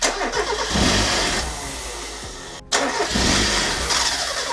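A Mazda MX-5 NA engine fitted with an aftermarket induction kit cranks and catches, then runs with a loud rough roar, briefly cuts out and picks up again, close by.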